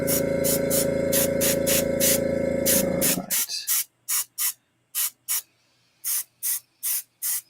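An airbrush sprays paint onto a sketch card in one long steady hiss, then in a run of short, evenly spaced bursts, close and alone.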